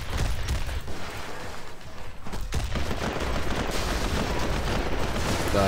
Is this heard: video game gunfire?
yes